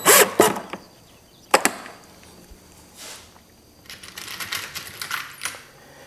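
Metal pocket screws rattle and clink in handling, then scattered taps and a scraping burst come from work on corner blocks of a country cottage style coffee table, close and irregular.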